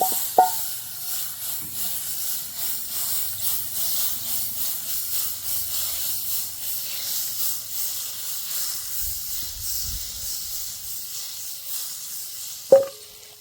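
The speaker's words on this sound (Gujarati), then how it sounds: "જો આપણા પાવ આપણે શેકી લઈએ બટરમાં" Pav buns roasting in butter on a hot pan give a steady, soft hiss and sizzle for the whole stretch, with a couple of faint kitchen clinks.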